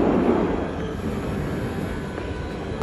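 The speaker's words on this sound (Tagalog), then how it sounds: "Another train." A train rumbles along in a continuous, loud roar with low wheel noise and faint squeal, heard from on board or close at the platform.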